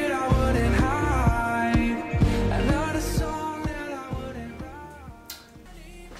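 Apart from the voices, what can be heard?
song playing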